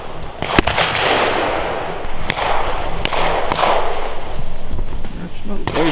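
Sharp gunshots firing copper bullets crack out at a police munitions demonstration, a few loud reports spaced irregularly across the stretch with faint room noise between them.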